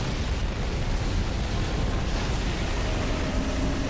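A grenade goes off in Halo: The Master Chief Collection, a dense roaring rumble of noise that fills the whole stretch loudly and evenly, with no speech.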